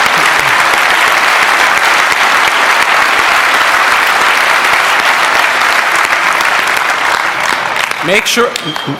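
Audience applause at a conference talk, a loud, sustained roar of clapping from a large hall that holds steady for several seconds before thinning out near the end as a voice begins.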